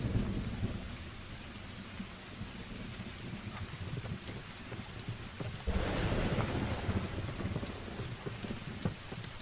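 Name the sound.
rain in a dubbed film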